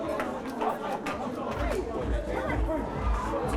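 Young intoxicated crowd chattering in a car park at night, a steady babble of overlapping voices with a low rumble underneath.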